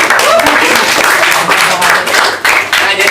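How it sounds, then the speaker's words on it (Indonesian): Loud, close applause from a gathered crowd at a YouTubers' meetup in Banjarmasin, Borneo, a dense burst of clapping with a few voices mixed in, lasting about three seconds. "Tepuk tangan dong buat dia."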